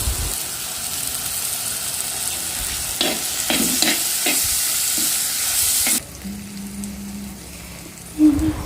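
Medium-sized chopped tomatoes hit hot oil in a pan with curry leaves, giving a steady loud sizzle with stirring scrapes for about six seconds before the frying drops to a quieter simmer.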